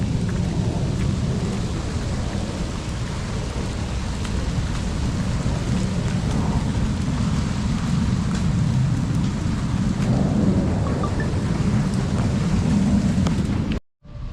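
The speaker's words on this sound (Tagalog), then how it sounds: "medyo pa bugso-bugso yung ulan dito" Steady rain pours on a farm plot where bitter gourd grows, a dense continuous hiss with low rumbling, holding constant before cutting off abruptly near the end.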